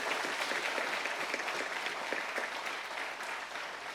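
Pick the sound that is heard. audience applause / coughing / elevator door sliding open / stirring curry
audience applause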